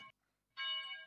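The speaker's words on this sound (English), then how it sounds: "the bell has rung" A church bell sound effect rings once as a single sustained, tonal clang that hangs and slowly fades, after a brief earlier tone.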